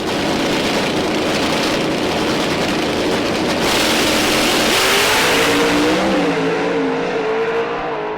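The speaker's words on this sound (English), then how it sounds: "It's a drag race, but JR car pulls it out, moves on to the next round of eliminations" Extreme Pro Stock drag race cars at a PDRA World Finals roar past in a loud, sustained blast of engine noise, the pitch climbing and shifting as they accelerate away down the strip, with no speech.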